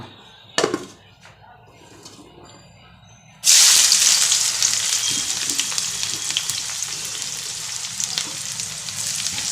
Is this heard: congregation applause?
no